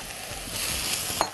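Okra tipped into a hot pan of seasoned oil starts a steady, close sizzle and frying crackle, with a brief clatter of the pan near the end.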